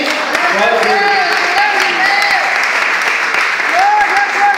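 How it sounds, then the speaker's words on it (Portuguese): A church congregation at Igreja Chamados por Deus applauds in praise, loud continuous clapping filling the room while voices call out and sing over it. "as palmas que louvam o Rei Jesus"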